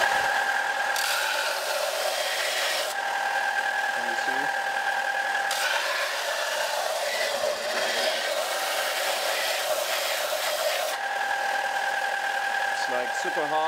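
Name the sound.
belt sander sanding hardened hempstone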